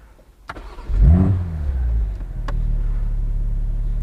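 A BMW M440i Cabrio engine fires up with a sharp rising rev, then settles into a steady, deep, close rumble as the car pulls away.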